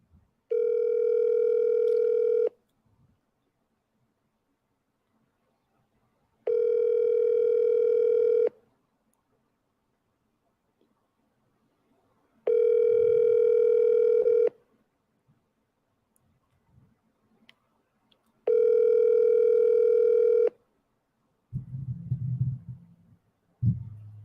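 A telephone call placed for wholesale real estate outreach: four long, evenly spaced steady ringback tones about two seconds each, separated by silence, followed by a brief low rumbling handling noise at the end.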